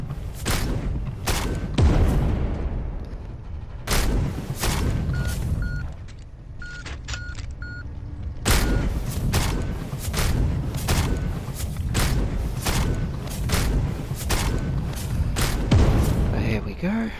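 Booming explosions and heavy gunfire in the Space Hulk: Deathwing game as turrets are taken out, loud, repeated blasts in close succession with a short lull midway, under dense combat noise.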